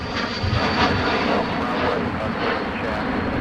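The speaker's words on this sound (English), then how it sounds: "It's a very sporty bizjet departure" A business jet departs from Minneapolis–Saint Paul airport, its engines producing a loud, continuous broadband roar, with radio chatter heard over it.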